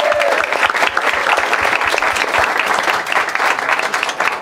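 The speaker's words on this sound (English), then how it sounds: "Let's thank Maria Nixon again, please." An audience bursts into sustained applause at a live event, dense overlapping clapping loud and close for several seconds, with a brief voice at the start.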